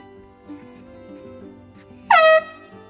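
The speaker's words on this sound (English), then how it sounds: "Even Blaine can't sleep through an air horn." A single loud air horn blast cuts in sharply near the end, brief and bright, after a quiet stretch of low background hum outdoors near a beach at morning.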